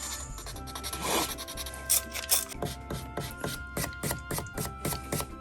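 Steady rhythmic rubbing and rasping strokes of sandpaper scraped back and forth over a BMW 420d Gran Coupe F36 car panel, close up and fairly quiet.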